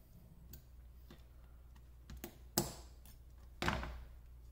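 Pliers tearing nickel strip off spot-welded battery cells from a $20 PCB spot welder: a few sharp close snaps and thunks, the loudest two near the end, with small clicks between and no talk.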